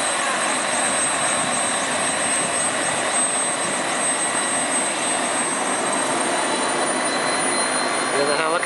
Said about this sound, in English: Is the helicopter taking off again?